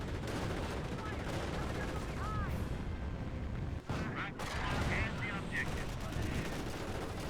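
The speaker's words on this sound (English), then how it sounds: "So got some artillery running in over here." Artillery fire in Company of Heroes 1 during a multiplayer match, with heavy booms and gunfire crackle over a dense battle din and a sharp blast in the middle.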